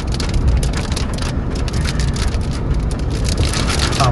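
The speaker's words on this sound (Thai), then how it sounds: "ฝนตกแล้วครับ" Rain falls hard while a car drives along a Bangkok expressway, a loud, dense patter of drops on the vehicle blending with steady road and engine rumble, continuous with no talking.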